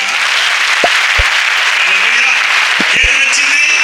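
A church audience claps together in a steady, dense wash of applause that holds for several seconds, with a few scattered low thumps and faint voices mixed in.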